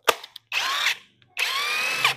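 A Himoki 650Nm cordless impact wrench drives a bolt in two loud bursts of rapid hammering whine, each under a second long, with a short click and a pause between them and no voices.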